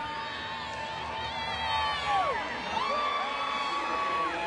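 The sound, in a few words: enthusiastic baseball crowd cheering at Turner Field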